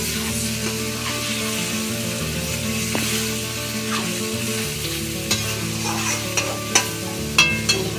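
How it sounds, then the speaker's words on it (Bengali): Soybean masala being sautéed and stirred in a pan on a low flame, a steady gentle sizzle with occasional spatula scrapes growing more frequent toward the end, under sustained background music. "একটু লো ফ্লেমে কষাতে হবে যাতে নিচে ধরে না যায়"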